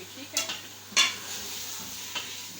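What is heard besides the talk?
beef sizzling while being fried in masala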